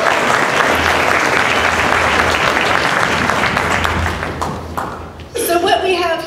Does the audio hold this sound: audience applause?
yes